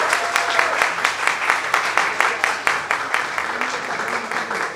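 An audience at a community fair award ceremony applauds, giving a steady, fairly close patter of many hands clapping in rhythmic waves, with no talk over it.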